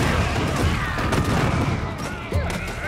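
Bombs dropped from a spaceship in the Spore video game boom and rumble in a dense, continuous barrage of explosions, loud and close throughout, with a voice faintly present underneath.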